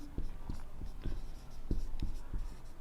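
A pen writes out a fractions problem in a Class 10 Hindi-medium maths lesson, making close, soft tapping strokes in a loose rhythm of about six marks over steady low room noise.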